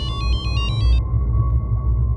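A landline telephone rings with a rapid, pulsing electronic trill for about a second, then stops, leaving a steady tone over a low background hum.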